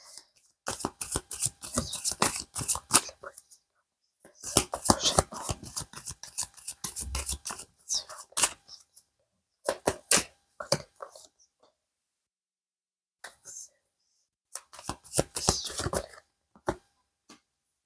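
Tarot cards being shuffled and laid out on a table, crisp riffling and flicking in several bursts with quiet gaps between them, close up and without talk.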